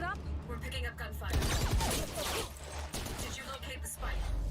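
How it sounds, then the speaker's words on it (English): Bursts of Valorant gunfire crackle in quick rapid volleys during a match, mixed with game voices talking over the shots. "We're picking up gunfire."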